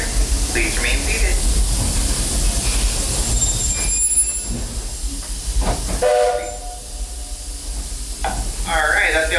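The Walt Disney World Railroad train at Magic Kingdom rumbles along with loud, continuous running noise and intermittent high wheel squeals, while people talk over it.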